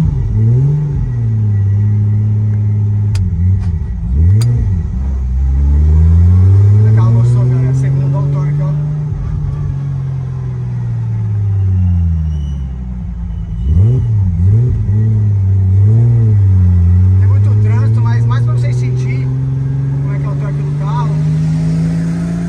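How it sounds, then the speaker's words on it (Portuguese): A Karmann Ghia fitted with a supercharged six-cylinder H6 engine drives past loudly, its engine note rising and falling through repeated revs and gear changes, with a steady rumble throughout. "Bora lá dar uma volta nesse carro, ver como ficou?"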